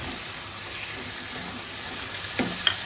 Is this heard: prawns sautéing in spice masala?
yes